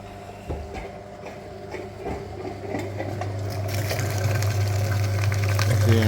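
On a VW Passat B7, a flushing machine connected to the front heater radiator pumps liquid through it. A low steady hum with gurgling and rattling builds gradually louder and rougher over several seconds, with no talk over it.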